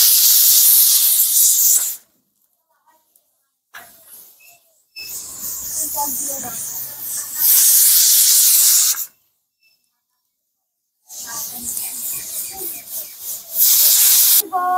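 A pressure cooker cooking mutton lets out loud, steady bursts of hissing steam, three long blasts separated by short silences, close and dominant.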